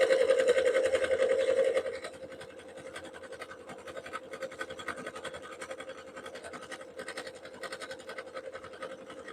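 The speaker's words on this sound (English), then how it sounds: "The trick with this is going to be to keep your sewing machine moving while you're doing this." A sewing machine runs steadily with a rapid, continuous mechanical stitching rattle, preceded by a brief louder tonal whine at the start.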